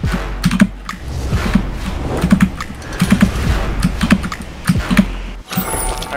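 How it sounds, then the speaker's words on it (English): Computer keyboard keys pressed during play of an indie platformer game, a close, steady series of sharp clicks and taps in quick bursts with no talking. "Maybe I should listen to my key presses when I try new root jumping."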